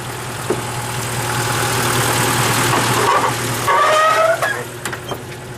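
A wood gas powered truck engine idles steadily with a low, even hum and a faint knocking texture, with brief rattles and clunks near the end.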